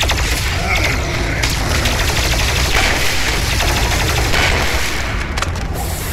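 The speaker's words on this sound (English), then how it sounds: "the plasma rifle can quickly destroy energy shields, which will trigger a damaging explosion" Plasma rifle firing in the video game Doom Eternal, a dense, continuous barrage of rapid energy shots with booms and mechanical clatter, loud and unbroken throughout.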